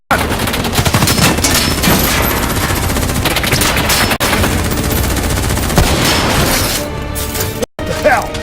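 Rapid gunfire fills a Call of Duty Black Ops 3 firefight, with loud sustained automatic bursts and crackling shots almost without pause. A couple of abrupt cutoffs break the barrage.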